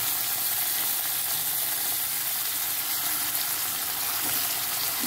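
Mixed vegetables sauté in a spice tempering for sambar, with drumsticks among them, giving a steady, close, even sizzle of frying that runs unbroken throughout with no talk.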